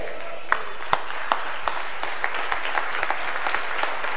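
Thin, scattered applause from a church congregation, with a few sharp individual claps standing out early and then a soft, sparse patter that never builds into a full ovation.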